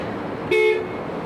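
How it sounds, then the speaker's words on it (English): A classic Jaguar at a concours judging sounds its horn in one short, loud, steady honk of about a quarter second, rising clearly over quiet outdoor background. "Let's hear the horn."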